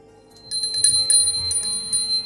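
A metal puja bell rings for an Ahoi Ashtami worship ritual, bright and close, struck in several quick repeated strokes with a long sustained ringing tone.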